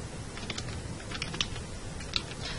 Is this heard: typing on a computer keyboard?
yes